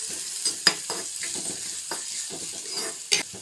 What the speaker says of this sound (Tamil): வெங்காயத்தை நல்லா வதக்கி விட்டுக்கலாங்க